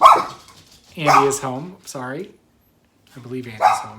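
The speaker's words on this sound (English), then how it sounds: "I'm sorry if you hear barking." A dog barks a few times in the background of a knitting podcast recording, sharp yips mixed in with someone talking close to the microphone.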